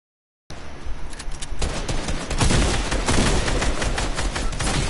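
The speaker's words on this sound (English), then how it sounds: "Someone's shooting at you." Video game gunfire starts abruptly as a dense, loud, continuous burst of rapid shots that keeps going without a pause and grows heavier partway through.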